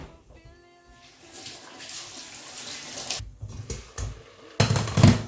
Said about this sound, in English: Down the drain it goes.